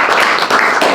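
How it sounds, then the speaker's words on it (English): An audience claps in steady, dense applause for Mrs. Dorothy Foster at a Triana historical society gathering, a sustained wash of many hands close by with no break. "So how about we give Mrs. Foster here a round of applause."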